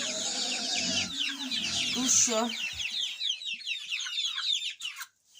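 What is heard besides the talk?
chickens clucking in a cage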